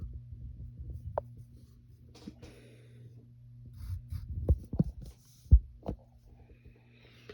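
Pencil scratching on paper in short, intermittent strokes, quiet over a low steady hum.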